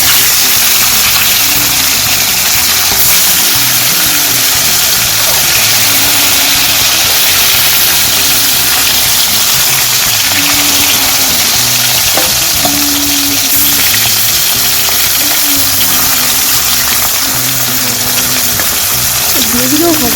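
Japanese puti fish from a home pond frying in hot oil: a loud, steady sizzle with dense crackling that runs the whole time, with some talk underneath.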